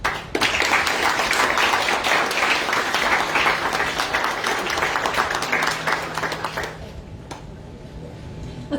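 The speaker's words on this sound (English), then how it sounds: "Let's give one more round of applause for Mr. William Neal." Graduation audience applauding after a speech, a sustained wash of many hands clapping at full volume for about seven seconds before dying away into room tone.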